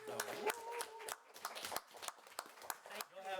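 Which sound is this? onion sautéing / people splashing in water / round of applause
round of applause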